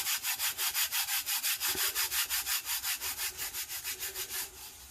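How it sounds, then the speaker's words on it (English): Steady, rhythmic rubbing strokes as a glitter tattoo is burnished onto a tumbler, about twenty even back-and-forth passes that soften slightly near the end, close and alone. "I am just going to start burnishing it down."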